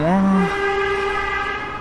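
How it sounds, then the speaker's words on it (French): A sustained car horn blares on a street, with stacked harmonic tones, one lower note dropping away early while a higher tone holds steadily to the end. "les gens ils sont surexcités, hein, ils klaxonnent et tout, c'est fou"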